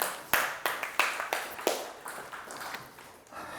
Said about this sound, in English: Haiku's getting applause.